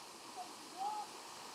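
Waterfall in an autumn landscape, a steady broad rushing roar heard from moderate distance, constant and fairly faint, with a couple of faint tonal blips over it.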